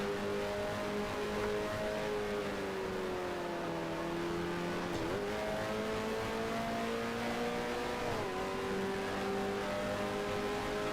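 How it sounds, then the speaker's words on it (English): Ferrari Formula One race car engine from F1 Challenge, 1975 season, droning loudly and steadily with tonal harmonics that dip and rise as the car shifts gears and another car closes in to lap. "And a Ferrari is now trying to lap me."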